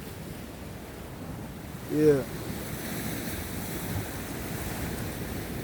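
Ocean waves wash against the shore on the Big Island of Hawaii, a continuous surf rush mixed with wind buffeting the microphone, while someone speaks briefly near the start.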